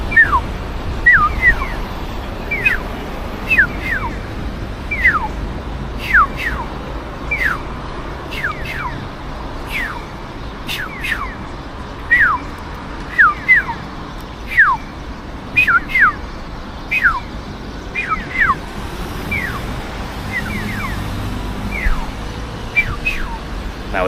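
A car alarm cycles through repeated chirping, whistle-like sweeps in regular bursts for over twenty seconds, carrying over a low outdoor traffic rumble with no voices.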